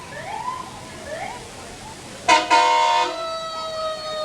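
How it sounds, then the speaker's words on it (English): Fire trucks from a countryside fire protection district sound a siren while passing in a small-town parade: a short wail with bright steady harmonics begins midway, loud and fairly close. "What you're hearing now and seeing is trucks from the Elburn Countryside Fire Protection District."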